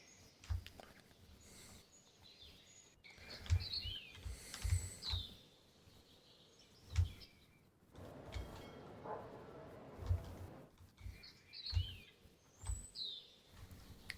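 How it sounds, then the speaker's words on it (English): Birds sing and chirp near the coast in the submarine simulation game UBOAT, faint scattered calls above low rumbling ambience and occasional dull thumps, without voices. "Seems to be that we are so close to the coast that we still hear the birds sing."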